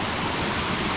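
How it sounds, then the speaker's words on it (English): A waterfall in a Scottish burn, a dense, even rush of falling water, loud and steady for the whole second with no break or voices. "another waterfall"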